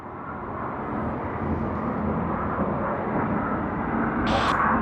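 An airliner's thrust reversers roar on landing at Sydney Airport, a broad, distant rumble that swells steadily and holds, with no talk over it.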